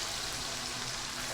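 Warm water pours into a pan of pork curry, giving a steady, close hiss and gush of liquid that carries on evenly throughout.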